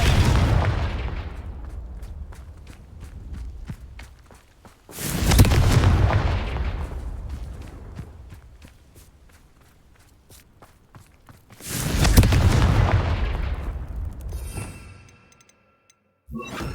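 Three heavy booming blasts from the Confringo fire spell in the wizarding game Hogwarts Legacy, spaced several seconds apart, each a loud thump that rolls off into a fading rumble.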